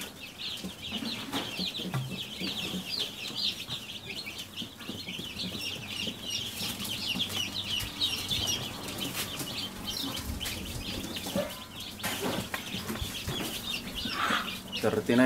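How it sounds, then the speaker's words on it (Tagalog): Dozens of newly hatched chicks, just moved from an incubator into a new brooder, keep up a dense, continuous chorus of high peeping with occasional wing flutters, while a person talks now and then in the background. "Na sisiw lahat yung nilabas natin mula sa incubator."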